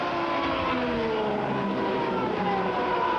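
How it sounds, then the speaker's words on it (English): Menard-powered Indy race cars at speed during the 1996 Walt Disney World Indy 200, a continuous loud engine roar with shifting whining pitch tones as the cars scream past, steady and dense throughout with no talk. "But those Menard engines have an awful lot of power, Denny."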